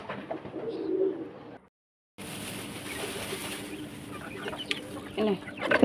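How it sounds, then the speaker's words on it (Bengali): Chickens being fed in the morning cluck and coo close by, with scattered pecking and rustling, and a brief gap of silence near the start. "সকাল সকাল মুরগিগুলাকে খেতে দিয়ে দিলাম"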